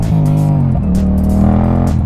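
Twin-cylinder motorcycle engine running rough with ugly jerks, a loud, close, steady drone with uneven surges and a slight stumble partway through, while running on its fuel reserve.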